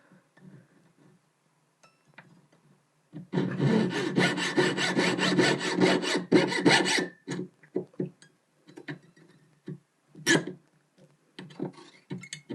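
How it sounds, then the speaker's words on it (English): Trimming excess metal off the side of a handmade domed locket, a dense rasping burst of sawing for about four seconds, followed by scattered light clinks and scrapes, close and fairly loud. "You don't need to trim a great deal off, it's just to even it up, so there's not a big piece sticking out of the side."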